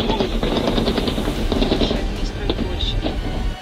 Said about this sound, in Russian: Даже когда раздались первые выстрелы